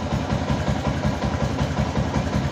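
A Yamaha Jupiter MX motorcycle engine idling, a steady low rhythmic putter with even pulses, close and constant with no revving.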